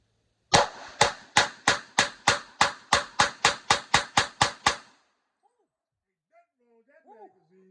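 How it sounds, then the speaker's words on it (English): A Glock 22 pistol fires a rapid magazine dump of about fourteen sharp, loud shots in even succession, followed by near silence and faint movement. "Let's just do a mag dump, and let's just get this bad boy warming up."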